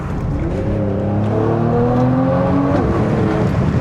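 A Mercedes-AMG C43 accelerates hard on the autobahn, its engine note climbing steadily in pitch through the gears, loud and continuous as heard from inside the car.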